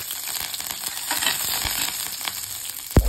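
Small onions and curry leaves fry in hot oil for a chicken pepper curry, giving a steady close sizzle with faint stirring scrapes and a sharp metallic clink at the end.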